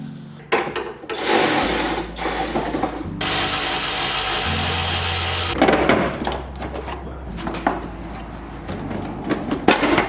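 Power tool whirring in bursts as it removes the rear bumper from a 1986 Mazda RX-7 FC, loud and close, with ratcheting clicks and metallic handling between runs.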